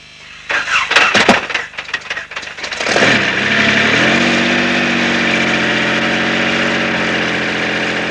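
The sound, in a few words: engine starting and idling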